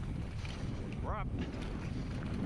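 Strong wind on a downhill mountain bike course, a constant loud rushing buffet of gusts over the microphone, with a brief voiced sound breaking through in the middle.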